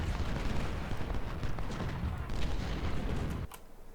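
Cannon fire roars through a Civil War battle in Ultimate General: Civil War, with dense, continuous booming and rumbling shots that stay loud throughout before cutting off abruptly near the end.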